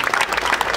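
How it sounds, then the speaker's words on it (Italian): Audience applause at an Italian press conference for an album release, a short dense burst of many hands clapping fairly close, with no voices over it. "gli voglio dedicare un altro applauso per cortesia"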